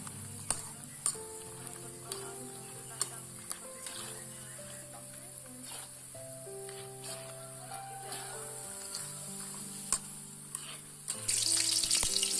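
Steady sizzling of peanuts frying in hot oil, constant and moderately loud, with occasional soft clicks and a brief louder hiss near the end.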